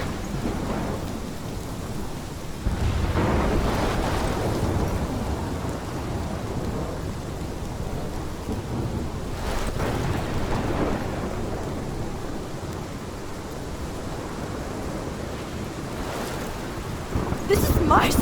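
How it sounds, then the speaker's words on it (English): Thunderstorm with steady heavy rain and rolling thunder in the video game Life is Strange, Episode 5 Polarized, loud and continuous throughout with swelling rumbles and a sharp crack near the end. "This is my storm."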